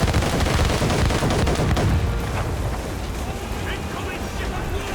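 Ship cannons blasting at fire ships in the Assassin's Creed Rogue video game, a loud rolling burst of booming shots over the first two seconds that trails into rumbling wash and debris, with a voice shouting alongside.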